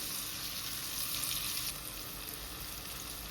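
Onions sauteing in a pan hiss with a dense, continuous sizzle close up, slightly louder in the first half and then easing to a steady fry, with no voices.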